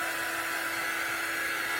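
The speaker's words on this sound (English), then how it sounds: "So this is just an air dryer. It's not a blow dryer." A warm air dryer, not a blow dryer, runs steadily while drying chalk paste on a small upcycled surface, giving a soft, even fan hiss with no voices.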